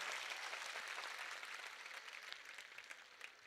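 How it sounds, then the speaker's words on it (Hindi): A live audience claps steadily at a Hindi poetry recitation by Imran Pratapgarhi, a broad wash of applause that is loudest at the start and thins slightly toward the end, with no voice over it. "एक बार मुझे ताली बजा करके माहौल दीजिए"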